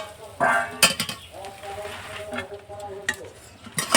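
Mustard flowers fry in a pan. A soft, steady sizzle is broken by sharp clinks and scrapes of a utensil against the pan, heard up close.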